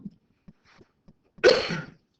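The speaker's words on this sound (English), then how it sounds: "excuse me for that cough" A single loud, harsh cough bursts out near the end, preceded by a few faint clicks and soft breaths, in a quiet indoor setting during a geometry lecture.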